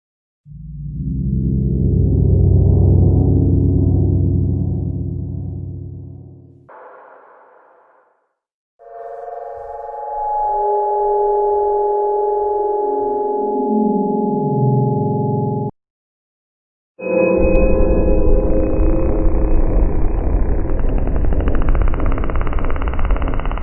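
A series of synthetic Minecraft sound effects: a long low rumbling tone, a descending electronic whine, then a harsh noisy burst, separated by brief silences.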